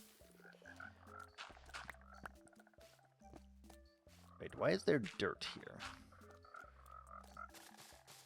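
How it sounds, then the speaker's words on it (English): Frogs croak repeatedly in a video game, a steady stream of short pulsing calls with a louder cluster midway, while a person talks over them. "Frogs, can you chill out, dude?"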